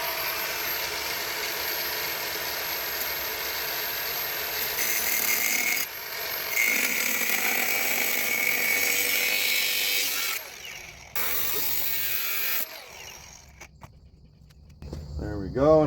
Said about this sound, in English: I'm gonna grind it, tapered in ever so slightly